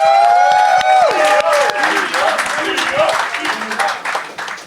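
Audience applauding and cheering at a comedy show, a loud crowd of claps and shouts under a vocal tone at the start that trails into scattered cheering.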